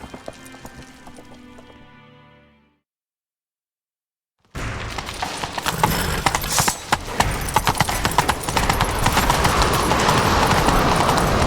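After a short stretch of silence, a horse's galloping hooves pound in a fast rhythmic clip-clop in The Witcher 3, loud and continuous, with a brief horse whinny mixed in.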